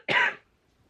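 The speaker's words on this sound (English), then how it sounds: "I'm gonna cough." A single short, harsh cough up close, then quiet.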